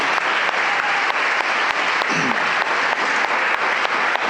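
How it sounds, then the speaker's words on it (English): Audience applause for student pitchers at a university entrepreneurship pitch final, a steady dense wash of clapping that holds evenly from start to finish with no voices over it. "Please give them a round of applause one more time."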